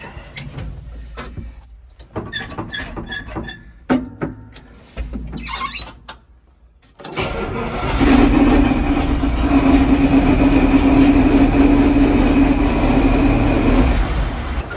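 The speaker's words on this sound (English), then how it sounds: "Nothing like a Caterpillar engine." A Caterpillar diesel engine in a Massey Ferguson 1805 tractor starts up after a few scattered clanks and knocks, then runs as a loud, steady, close rumbling drone with a firm low hum.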